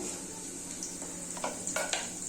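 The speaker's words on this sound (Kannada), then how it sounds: "ನೋಡಿ, ಮೆಣಸಿನ್ಕಾಯಿ ಒಗ್ಗರಣೆ ಹಾಕಿದ್ದೀನಲ್ಲ, ಘಾಟ್ ಬರ್ತಾಯಿದೆ" Dried chili tempering sizzles in hot oil in a pan for a village-style sambar, giving a steady close hiss with a few sharper crackles and light stirring touches near the end.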